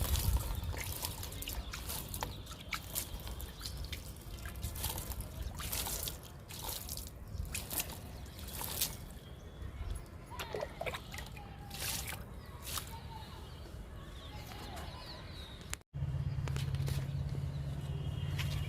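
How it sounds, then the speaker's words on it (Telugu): Homemade liquid made from fruit peels is sprinkled onto pomegranate plants, giving intermittent close splashes, drips and patters on leaves, with a short silent break near the end. "దానిమ్మ మొక్కలకి చల్లుదాము"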